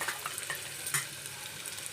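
Chopped onion dropped into hot oil, a soft continuous crackling sizzle with light stirring, fairly quiet and close.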